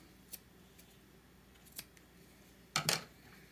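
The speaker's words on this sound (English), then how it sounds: "So I'm going to cut the one without the tails. And then I'll cut my tails off." Scissors snip thread tails off merrow-stitched fabric, with two faint short snips and then a louder double cut near the end, close and quiet against a soft background hiss.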